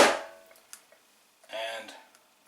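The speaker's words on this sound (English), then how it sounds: "A couple bangs to get all the air out." A black-and-white film developing tank is banged on a surface to dislodge air bubbles, a sharp bang followed by a few lighter knocks and a brief rattle, close and isolated.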